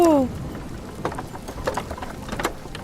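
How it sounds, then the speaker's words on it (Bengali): Rain patters steadily on a surface close by, with scattered louder drops and a short tonal sound at the very start. "বৃষ্টি দেখতে তো ভালোই লাগছে আমার মা।"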